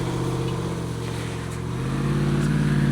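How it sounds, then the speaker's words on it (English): A Jeep Wrangler 392 V8 drives through a snow pile, its engine a loud steady close rumble that swells in the last second as it pushes on. "drive through the snow pile in the 392"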